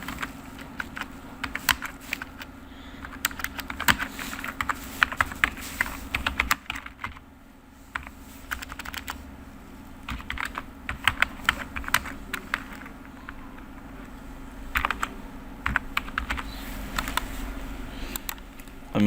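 Typing on a computer keyboard in MS Word, close irregular bursts of key clicks with short pauses between runs of keystrokes.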